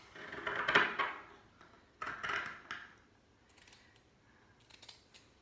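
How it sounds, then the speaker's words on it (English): Scissors snip through blue fabric for a homemade face mask, two close bursts of crisp cutting followed by fainter trailing snips and light handling. "So I'm going to cut that out."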